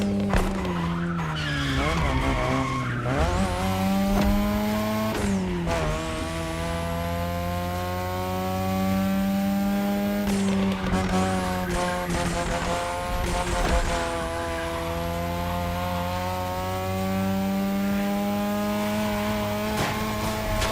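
Race car tires skid and squeal in a street racing video game, long screeching slides layered over a loud revving engine, repeated several times across the stretch, with no talk.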